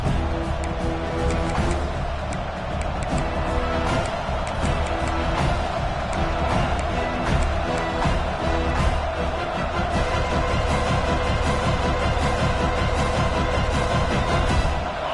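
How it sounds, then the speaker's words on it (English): A packed stadium crowd at a Bulldogs vs. Gators college football game produces a dense, continuous roar, loud and unbroken throughout, with layered cheering blending into one sustained wall of sound. "This crowd ready to make its presence known."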